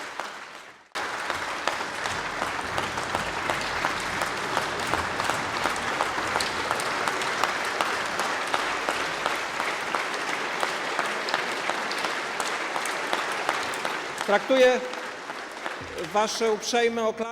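Sustained applause fills a parliament chamber, dense and even for about thirteen seconds, honoring the Polish Sejm Marshal during his address to Ukraine's Verkhovna Rada; the clapping thins near the end as a voice briefly speaks.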